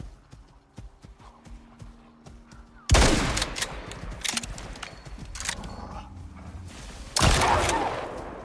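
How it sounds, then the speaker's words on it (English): Gunfire from hunting buffalo in the survival video game Icarus: a quiet stretch of faint hoof-like clatter, then a loud burst of shots at about three seconds and another sharp blast near seven seconds, with rumbling reverberation between. "I didn't mean to shoot the buffalo."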